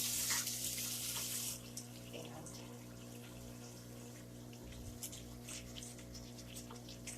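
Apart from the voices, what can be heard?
water running from kitchen sink tap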